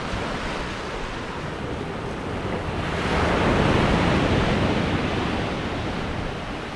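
Sea surf on the Yorkshire coast shore, a steady broad roar of waves washing in, swelling louder midway as a wave breaks close by, with wind buffeting the microphone and no voices.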